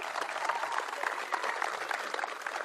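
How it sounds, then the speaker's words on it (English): Applause from a crowd at the Seahawks 50th season flag raising, steady dense clapping that fills the whole stretch with no break. "Give them a round of applause for that"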